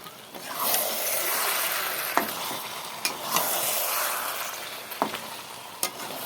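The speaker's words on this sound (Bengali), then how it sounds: "দেখতে থাকো আলুগুলো ঢেলে দিলাম" Potatoes tipped into hot oil for a spicy tilapia curry with cauliflower hiss with a steady, close sizzle, broken by a few sharp clicks of stirring against the pan; no voices.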